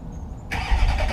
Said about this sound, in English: What a beautiful cold start.